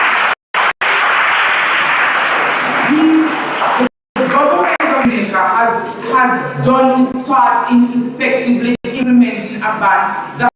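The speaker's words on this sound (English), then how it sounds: "Give the Jamaican government a round of applause" An audience at a college event applauds the Jamaican government, a dense burst of clapping at first, then a voice talks over it while the clapping fades.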